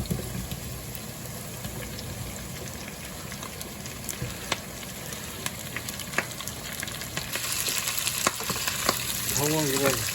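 Onions cooking in a pan until they turn clear give off a steady, crackling sizzle that grows slightly louder toward the end, with a few scrapes and clicks of stirring on top and no talk.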